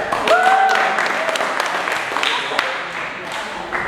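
Audience of school students clapping for a classmate at a Christian retreat, a burst of applause that fades gradually, with voices talking over it.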